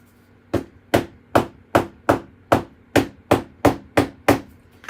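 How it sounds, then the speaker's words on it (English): Sharp metal pieces are flattened with a hammer in ten evenly spaced, loud, close blows that land in a steady beat, each a crisp clanging thwack with no voices. "And hammer them flat."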